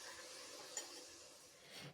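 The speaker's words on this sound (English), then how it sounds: "I'm currently in the process of frying up some onions." Steady, faint hiss of onions sizzling in a frying pan, continuous throughout with no voices.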